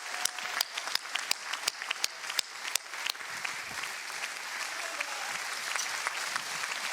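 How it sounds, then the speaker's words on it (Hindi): Loud audience applause for young performer Sharanya on a Hindi kids' TV talent show, sharp claps opening the burst and settling into steady, dense clapping that carries on to the end. "जोरदार तालियां हो जाए शरण्या के लिए"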